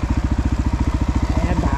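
A motorcycle engine putters at a steady fast rhythmic thump, loud and close, during a night ride on a tall bike.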